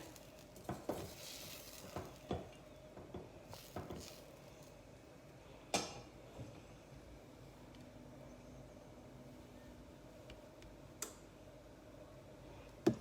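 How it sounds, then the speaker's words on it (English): Butter melting in a pan while cooking garlic Dungeness crabs, a soft steady sizzle with occasional stirring scrapes and light clinks of utensils against the pan. "we'll let the butter melt"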